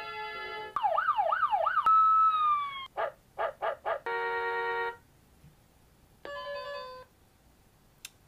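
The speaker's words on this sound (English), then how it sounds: "There's a melody button on the side that I'm pressing to cycle through all the melodies" A Guardline wireless driveway alarm plays through its melody tones: warbling siren-like chimes, clipped beeps, a doorbell ding-dong and short electronic tunes, clear and close, with no talk.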